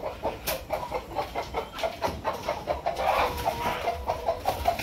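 Laying hens in a backyard coop cluck in short, repeated bursts, a near and fairly loud rhythmic chatter of several birds with no one speaking.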